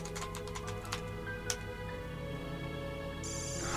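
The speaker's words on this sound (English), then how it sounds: "Look at that typing animation." Rapid, fast-ticking keystroke clicks from a typing animation in a video game cutscene, with soft electronic tones underneath. The clicks thin out after the first second and a brighter tone rises at the end.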